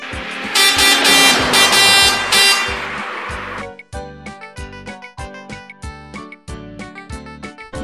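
Cartoon van horn honking loudly in a bright blaring burst over the first few seconds, followed by a bouncy musical backing with no engine clearly audible.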